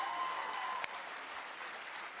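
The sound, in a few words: applause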